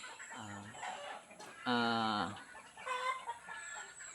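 Chickens cluck and call in a farmyard, including a borrowed breeding rooster, with a louder harmonic call in the middle between softer clucks, close and clear over light background noise.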